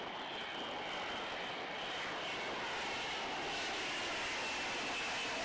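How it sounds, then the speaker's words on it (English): An F-35B fighter jet hovering at an air show, a steady, far-off roaring wash of jet engine noise that holds at an even level throughout with no voices. "That is an F-35 Bravo."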